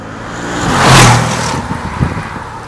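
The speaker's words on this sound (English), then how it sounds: "That's exactly how it feels to drive a G63 on these small," A 2025 Mercedes-AMG G63 SUV, 585 hp, drives along small, twisty country roads, its engine note swelling as it passes close by, then settling into a steady rumble.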